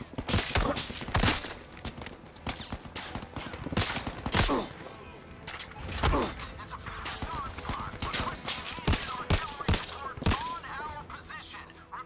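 Rapid bursts of suppressed gunfire in the Zero Caliber VR video game, sharp repeated shots in quick clusters throughout, close and fairly loud.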